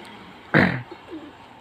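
Pigeons give a short, close burst of sound followed by a couple of faint, low coos against a quiet background.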